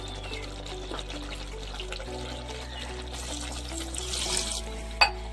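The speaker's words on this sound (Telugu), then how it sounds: "ఇంకొంచెం వాటర్ పోస్తున్నానండి" Water is poured into a cooking pot of chicken curry, a soft continuous trickle over a steady kitchen hum that swells slightly near the end before a brief knock.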